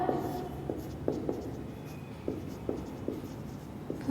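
Marker or chalk writing on a board during an accounts lesson, a series of short scratchy strokes in an irregular rhythm, fairly close, with no talking over it.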